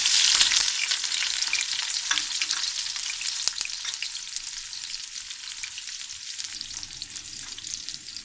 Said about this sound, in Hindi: ऑयल हमारा गर्म हो चुका है तो इसमें हम प्याज डाल लेते हैं।